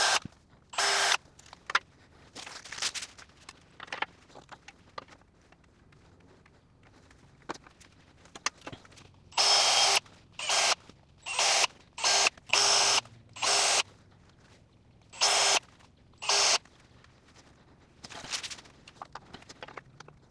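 Power drill pre-drilling a row of holes through metal edging for home gym flooring, in about nine loud, sharp whining bursts of roughly half a second to a second each, separated by quiet pauses with faint handling noises.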